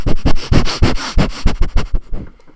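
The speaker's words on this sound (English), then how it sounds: "how many times can you sniff? And get up close to my mic here and go." Around ten quick, loud sniffs made right up against a microphone, in a fast, even rhythm that fades out at the end.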